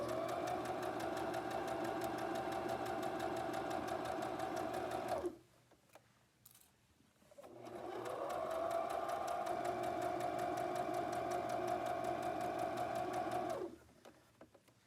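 A sewing machine stitches in two long steady runs, a close, even mechanical whir that stops for a couple of seconds during a pivot with the needle down, then resumes before halting.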